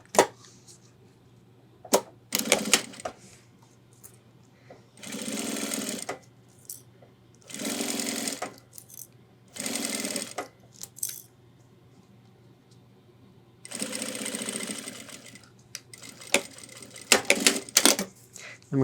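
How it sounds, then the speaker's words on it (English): A sewing machine stitching a backpack handle on an ultralight 30L hiking pack runs in five short motor bursts of about one to two seconds each, separated by clicks, taps and handling noises. "We're going to sew from chalk line to chalk line,"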